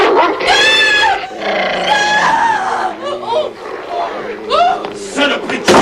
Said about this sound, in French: Saloperie de chien!